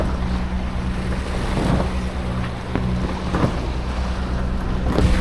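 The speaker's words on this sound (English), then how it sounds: "we've got the motors up and running." Motors drone steadily aboard a sailboat at sea off Turkey's south coast, a low constant hum with wind buffeting and water washing against the hull throughout.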